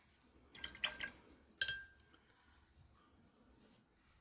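Watercolor paint is dropped into wet paper and spread with plenty of water, giving a few soft, close drips and small splashes over a quiet background.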